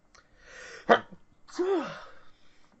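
A single sharp sneeze, close and sudden, preceded by a short inhaled breath and followed by a brief voiced sound.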